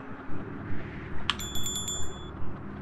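A small bell in the video game FAR: Lone Sails rings once with a bright metallic ding and a short shimmering decay, heard over a steady rumbling game background.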